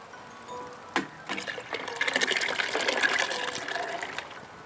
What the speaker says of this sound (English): The better the splash, the better the soup.